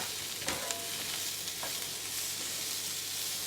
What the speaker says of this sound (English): We want these pine nuts to just get a little bit of that color and flavor on them.